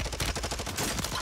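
Rapid automatic gunfire in the video game Warzone 3 from a Vaznev-9K, a close burst of fast, evenly spaced shots lasting about a second.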